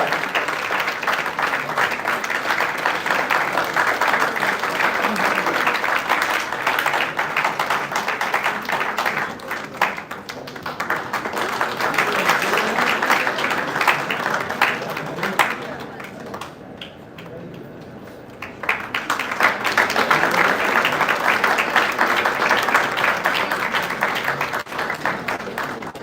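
Loud, sustained audience applause at an international conference as a management excellence award is presented, clapping in broad waves with a brief dip midway before swelling again, with some voices mixed in.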